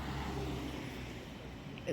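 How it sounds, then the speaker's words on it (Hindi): Evening street traffic in Korea, with cars passing and a steady low road rumble filling the scene from a short distance, continuous and fairly even throughout. "ये देखिए ट्रैफिक कितना है, गाड़ियाँ शाम का वक्त है"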